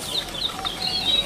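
Soft clucking from several ornamental chickens at a bird market in Ponorogo, faint and scattered over a steady murmur of background noise.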